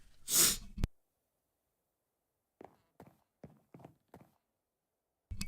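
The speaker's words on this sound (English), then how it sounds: "Woo, big sneeze." A single loud sneeze up close, followed by silence and then a few soft footsteps or shuffling sounds.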